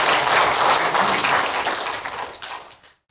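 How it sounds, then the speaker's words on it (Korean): Audience applause welcoming a guest lecturer at a patriotic citizens' current-affairs lecture seminar in a hall, a loud dense burst of clapping that thins and fades out over about three seconds. "큰 박수로 환영해 주십시오"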